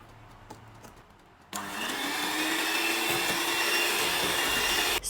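An electric mixer starts on butter cake batter after a quieter lead-in, then holds a loud, steady whirring drone with a slowly rising hum to the end, close and alone.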